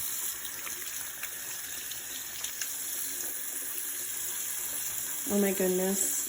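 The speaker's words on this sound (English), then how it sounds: "Okay, and now for our lather test." Handmade soap is lathered under a running tap, a steady rush of water throughout, with a short spoken exclamation near the end.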